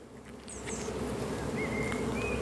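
Honeybees buzzing around an open hive frame of pollen and honey during an evening hive inspection, a dense close swarm drone with a few individual bees whining past, no voices.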